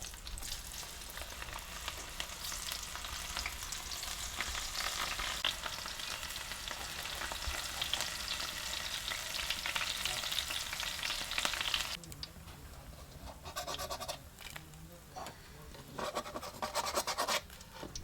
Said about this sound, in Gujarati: ભીંડો તળાઈ ગયો છે હવે મરચાં તળી નાખીએ